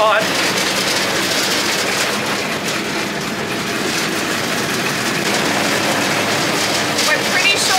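A rickety cable car in Jardín, Colombia rattles and clanks loudly as it hauls uphill, a constant rumbling grind with squeaks and knocks layered over it.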